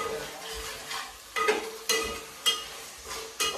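Ginger garlic paste and onion frying in a pan for a chicken dish, with a steady sizzle under repeated sharp stirring scrapes and clinks of a utensil against the pot, close and moderately loud.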